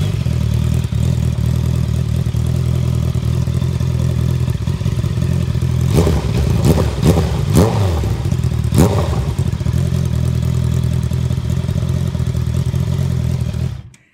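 A Honda CBR 650R motorcycle engine runs steadily and loudly up close, with a burst of sharp revs in the middle before settling back to a smooth idle and cutting off at the end.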